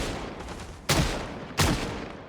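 Two sharp gunshots from a .38 revolver in the zombie survival video game Project Zomboid, each a loud cracking bang followed by a short decaying tail, spaced under a second apart over quiet background.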